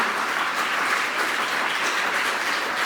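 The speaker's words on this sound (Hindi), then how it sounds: "इनके लिए मैं चाहता हूँ एक बार जोरदार तालियां बजाएं" Loud, dense applause from an audience at an event in India, a continuous wash of many hands clapping together at steady intensity throughout, with no voices standing out.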